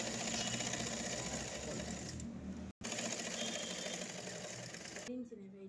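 Sewing machine running steadily while stitching fabric, a continuous close whir with one brief stop near the middle, then settling down at the end.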